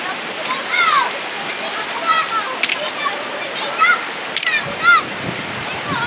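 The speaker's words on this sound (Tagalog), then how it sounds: "Guys, so grabe ang agos ng tubig, oh." Strong current of the Majayjay river in Laguna after rain, a continuous rushing, splashing roar of water throughout, with a voice calling out briefly over it several times.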